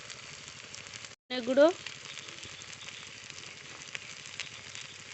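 Ground spices sizzle and fry in a pan with spinach and potato, a soft steady crackle interrupted by a brief gap and a short clatter of stirring, with a voice speaking briefly.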